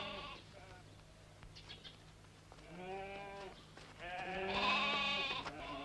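Goats bleating in an old Indonesian Benyamin S film, several wavering calls in succession, the last one loudest and longest, with faint background noise and no speech.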